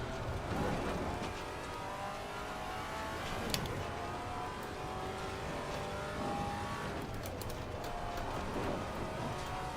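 A Maserati MC4 race car in Assetto Corsa Competizione drones through its engine along the Nordschleife while the underside scrapes the ground over and over, with faint sharp clicks now and then over the steady engine tone.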